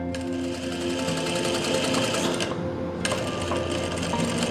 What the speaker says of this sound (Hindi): अब हमने इसकी सिंगल फुट से सिलाई लगा देंगे